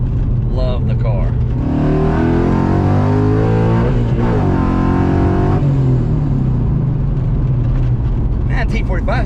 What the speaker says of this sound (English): we are just been driving the car around for a little bit